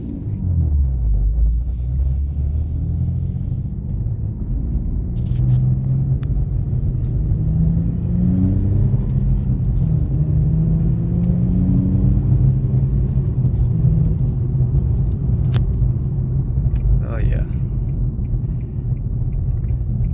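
An Infiniti G37S coupe's deep aftermarket exhaust drones steadily near top speed, a continuous low rumble with rising and falling engine tones, loud and close, no talking.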